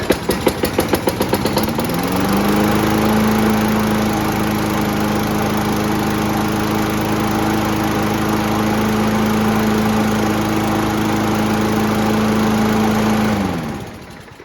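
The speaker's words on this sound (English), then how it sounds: "There's nothing wrong with this lawnmower." A cheap gas lawn mower engine sputters with a few quick pulls and chugs, then settles into a loud, steady running drone close by for over ten seconds before cutting off abruptly.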